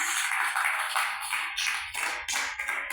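Congregation at a Spanish-language evangelical church service applauding together, a dense continuous wash of many hands clapping throughout, fairly loud and steady with slight swells.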